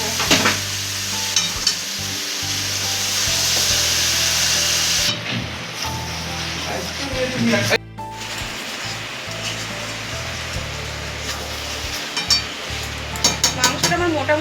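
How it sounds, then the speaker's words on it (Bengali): Chicken pieces sizzle loudly in a pan for chicken curry while being stirred, with steady close frying hiss broken by scraping and clattering of the spoon against the pan and no talk. "চিকেনগুলো দিয়ে ভালো করে আমি এটাকে নাড়বো।"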